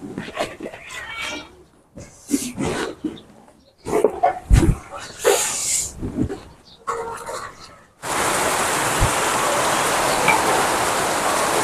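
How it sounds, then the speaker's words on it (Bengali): Steady rain pours outside during a kitchen session of cooking taro greens with hilsa fish head. It starts as a broadband hiss after a stretch of talking and clattering, then continues alone at an even volume. "বৃষ্টি আছে"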